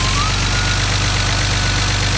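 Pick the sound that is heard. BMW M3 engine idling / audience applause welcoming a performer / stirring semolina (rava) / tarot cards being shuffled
BMW M3 engine idling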